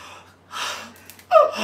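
A man imitates a yawn with his voice: a breathy, drawn-out exhalation that swells and fades, followed by a short sharper gasp near the end, close and alone without other talk.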